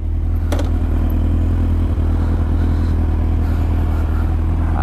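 A Yamaha R6 sport motorcycle engine roars loudly and continuously close by, with a deep steady drone and a brief rattle early on.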